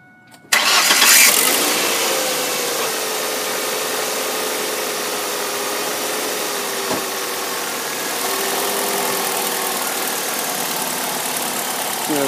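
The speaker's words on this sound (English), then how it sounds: "let's see what the meter reads when I rev it up" A car engine with a tachometer wired to its spark plug lead catches abruptly and settles into a loud, steady running drone that lifts slightly toward the end, close to the microphone.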